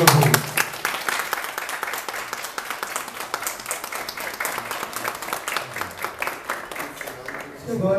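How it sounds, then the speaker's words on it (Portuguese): Applause at a parish centre opening: dense, sustained clapping from a crowd fills the whole stretch, loud and steady with a brief dip near the end and voices mixed underneath. "Uma salva de palmas, meu Deus."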